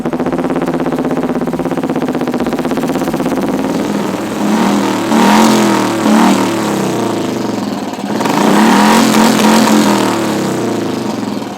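A car engine revs hard in bursts over a steady idle, rising sharply around the middle and again near the end, loud and close with no talking.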